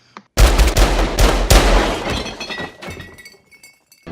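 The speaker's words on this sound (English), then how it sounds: "he is promptly shot 5 times in the chest" Gunfire in a Tarantino film scene where a German soldier is shot five times in the chest: loud, close bursts of shots crowd together, then decay into a ringing tail.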